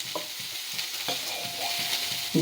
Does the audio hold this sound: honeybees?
no